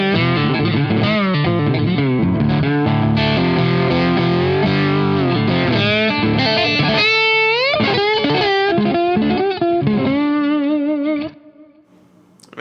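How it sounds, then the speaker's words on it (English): An electric guitar played through an EP Booster boost pedal with up to 20 dB of gain rings out in continuous chords and sliding notes, loud and up close, ending in a brief quiet tail. "that's a great sounding boost pedal"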